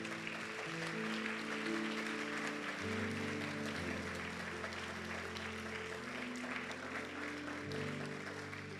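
A church congregation gives a sustained round of applause as an offering to the Lord, soft and steady throughout, with a faint musical tone underneath.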